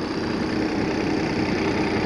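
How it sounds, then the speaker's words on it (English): A 2006 Monaco Diplomat 40PAQ diesel pusher motorhome with a 400HP Cummins engine idles steadily, a close, constant low rumble and hum with a generator running, no talk. "I got the motor running right now, generator running, power and everything."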